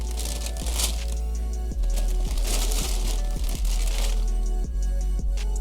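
Regular paper stuffing inside a Clot x Jordan 5 Low sneaker box crinkles and rustles as it is pulled open, a continuous close crackle with a few sharper snaps over a low hum, no voices.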